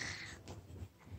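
A pet cat gives a single brief, faint meow, followed by soft low rustling and quiet breathing-like noise in a still bedroom at night.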